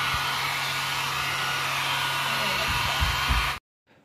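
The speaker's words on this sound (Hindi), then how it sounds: "मैंने जैसे ही इस पे ड्रायर लगाया तो थोड़े से गेहूं निकल गया" A hair dryer blows over wheat grains spread on newspaper, a loud, steady whirring roar that holds for over three seconds with a few light rustling bumps near the end, then cuts off abruptly into silence.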